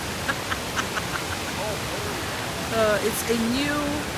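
A forest canyon waterfall in Michigan's Upper Peninsula roars as a steady broadband rush, with faint voices and brief tonal sounds rising over it near the end.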